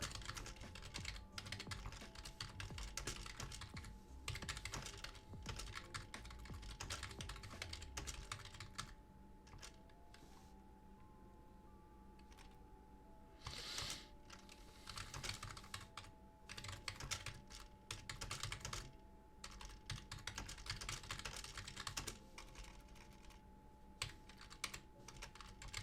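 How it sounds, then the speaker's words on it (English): Computer keyboard typing in steady clattering bursts, close and crisp, with a quiet pause midway before the keystrokes resume. "You get a little bit of typing ASMR for you"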